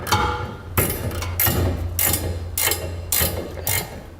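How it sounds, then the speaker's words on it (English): A ratchet wrench tightening gooseneck hitch bolts on a 2006 Dodge Ram pickup, 3/4 inch socket, giving six or seven loud, close bursts of rapid clicking at a steady pace, separated by short pauses. "Use a 3/4 inch wrench or socket."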